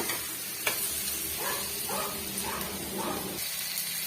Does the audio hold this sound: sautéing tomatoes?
yes